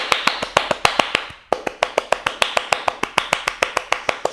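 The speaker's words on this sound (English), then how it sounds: "See how fast you can clap" Hands clap rapidly and close by during a seated chair yoga routine, a quick stream of sharp claps with a brief break in the middle before the clapping picks up again just as fast.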